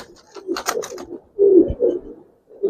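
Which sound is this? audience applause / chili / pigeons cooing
pigeons cooing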